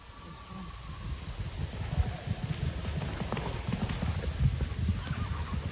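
A horse carrying a cowboy's ashes on a last ride clip-clops along in a steady, close hoof rhythm, with a brief whinny and a faint background hum.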